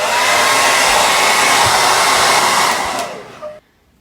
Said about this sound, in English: So let me plug up my hairdryer.